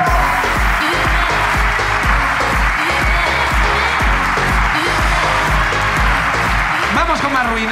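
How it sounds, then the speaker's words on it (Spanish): Audience at a live comedy show applauds, with steady, loud, dense clapping that fills the room under a voice talking over it, then begins to fade near the end. "¡Un aplauso para Mireia!"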